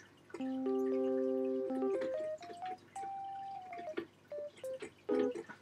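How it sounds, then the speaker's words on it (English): Soft EVP88 electric piano notes in Logic Pro 9 play a gentle, slightly uneven melody with sustained chords at first, then scattered single notes, quiet and alone. "the 5th one defaults to the EVP88 electric piano, which sounds like this"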